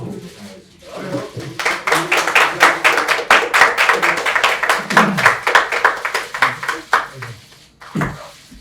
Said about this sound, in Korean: 그러면 여러분 박수로 부탁하겠습니다.